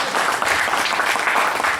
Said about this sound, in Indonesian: Tepuk tangan untuk Butet.